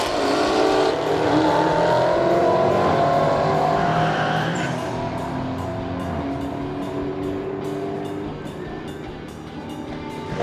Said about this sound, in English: here's a brand new Dodge Charger Hellcat right after it